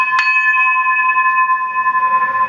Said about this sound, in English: we can pick some bells.